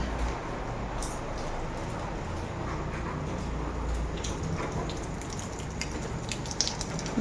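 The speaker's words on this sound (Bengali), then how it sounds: "বাইরে ভালো বৃষ্টি হচ্ছে না" Steady, dense rain pours down outside during the night, a constant hiss with scattered louder drips, heard alone without speech.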